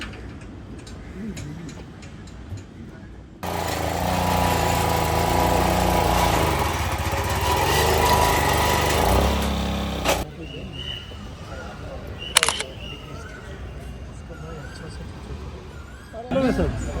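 An ASPEE JX80 small engine, the kind fitted to a power weeder, runs at a steady loud drone for several seconds, then cuts back to a lower idle while people talk nearby, with occasional clicks.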